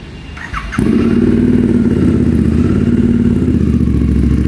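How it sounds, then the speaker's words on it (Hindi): A Royal Enfield Interceptor 650 motorcycle engine cranks briefly, then catches and runs loud and steady with a rough, throbbing idle and slight revving. "अभी करते हैं जल्दी से बाइक को स्टार्ट और आपको आवाज़ सुनाता हूँ भाई"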